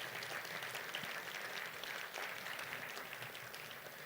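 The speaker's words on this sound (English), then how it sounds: "would you all please give City Council a round of applause for their leadership." Audience at a city employee awards ceremony applauding the City Council, a soft, steady wash of many hands clapping throughout with no talk over it.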